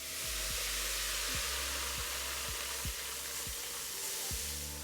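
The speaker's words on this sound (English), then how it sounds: "I've just placed some segments of orange and some fresh raspberries into the liquid nitrogen, and these will freeze really rapidly" Orange segments and fresh raspberries sit in boiling liquid nitrogen, which gives off a loud, steady bubbling hiss with repeated low thumps and pops throughout.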